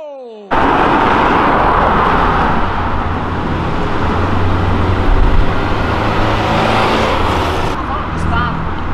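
A stage 4 Volkswagen Jetta GLI with 400 hp revving hard nearby, a loud sustained engine roar that holds steady for several seconds with a brief surge midway, as people talk over it.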